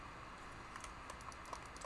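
Quiet clicks of computer keyboard keys pressed for movement in Fortnite, scattered irregularly over a steady hiss of background noise.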